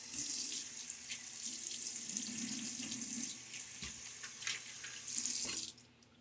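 A bathroom water tap runs steadily for rinsing a razor after shaving, a continuous close hiss of flowing water that cuts off near the end.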